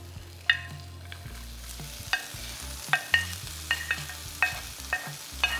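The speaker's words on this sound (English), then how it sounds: "So now that the ginger pieces had just had a few minutes to fry off, I'm going to add the rest of my greens." Ginger, pancetta and greens fry in a pot over gentle heat, a soft sizzle broken by repeated sharp spoon knocks and scrapes against the pot at irregular intervals, close up and with no speech.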